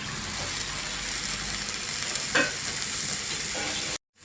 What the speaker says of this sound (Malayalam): ഇനി ഇതിലേക്ക് നേരത്തെ മാരിനേറ്റ് ചെയ്ത് വെച്ചിരിക്കുന്ന ചിക്കൻ ഇട്ട് കൊടുക്കാം.